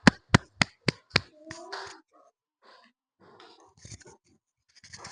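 Short classroom applause for a student group: five sharp, evenly spaced claps up front, then scattered rustling, shuffling and a few soft voices as the room settles.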